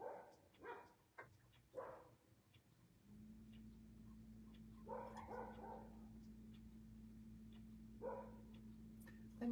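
Dogs up a hill bark far off, very faint, in a few scattered bursts with long gaps between them, over a steady low background hum.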